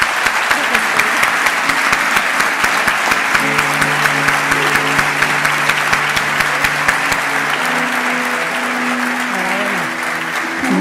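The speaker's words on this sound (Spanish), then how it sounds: "no queda más que daros un inmenso aplauso y las gracias" Sustained, vigorous applause fills the hall at the 2023 Aragón Family Business Award ceremony, many hands clapping densely for about ten seconds while low sustained music tones enter partway through and continue beneath the clapping.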